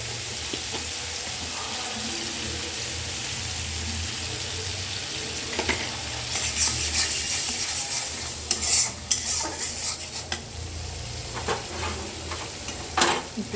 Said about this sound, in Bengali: মরিচের গুঁড়া দিয়ে দিই।